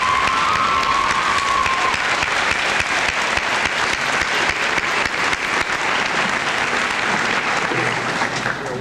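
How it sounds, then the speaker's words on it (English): Warm, sustained applause from a school senior assembly audience honoring retiring teachers, loud and steady for the whole stretch with light cheering mixed in. "Let's give these people a nice round of applause."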